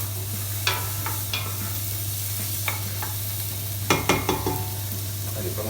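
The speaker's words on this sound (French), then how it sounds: "Les premiers légumes, ça va être donc les carottes et les oignons. On va venir leur donner une belle petite couleur." Carrots and onions sauté in olive oil in a pan, a soft continuous sizzle broken by sharp clicks and scrapes of stirring in scattered bursts, close by, with a low steady hum beneath and no voices.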